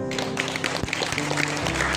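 A church congregation applauds together, a dense wash of clapping hands filling the room throughout, steady and fairly loud with a few sharper individual claps standing out.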